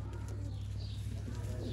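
Low, soft cooing from pigeons kept by a fancier rumbles close by in a steady, repeating pulse, with a faint chirp and a short louder coo at the end.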